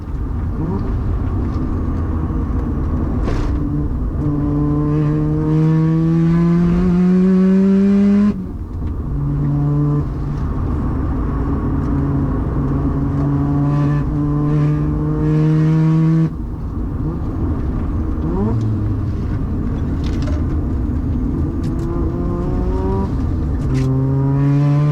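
A 400-horsepower Mazda RX-7 race car with a 13B rotary engine accelerates hard up a hill on a track, its loud, close engine note climbing steadily through the gears with brief dips at each shift.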